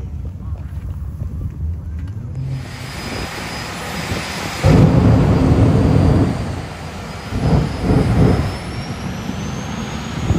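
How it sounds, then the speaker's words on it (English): Jet car engine at the Carolina Drag Cruise drag race, a loud roaring blast that surges abruptly, holds for a couple of seconds, then pulses again, close by with a whining tone and crowd voices around it. "There's a jet car."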